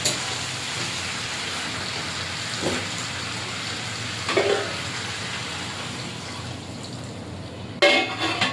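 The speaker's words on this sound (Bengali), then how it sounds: "এইবারে অল্প করে জল দিয়ে দেব" A little water goes into a pot of chicken curry with half-boiled potatoes, giving a steady close hiss and sizzle with a few brief louder splashes.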